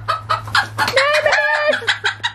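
A chicken clucks in a rapid run of short, close, fairly loud calls on a Dutch farm with many chicks, with a steady low hum underneath and no talking.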